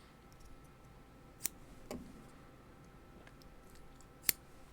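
Two sharp snips of scissors cutting cotton wick for a SMOK TFV12 vape coil build, quiet and close with a faint thump between them against low background hiss.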